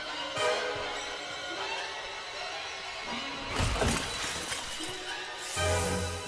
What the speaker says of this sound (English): Uh oh, who's smashing at windows?